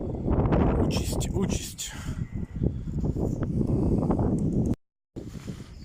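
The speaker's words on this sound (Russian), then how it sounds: "Да, ветрюган, конечно, мощный." Strong winter wind gusts buffet the microphone outdoors, with loud broadband roar and rustling that rise and fall throughout before a brief dropout near the end; a voice speaks briefly under it.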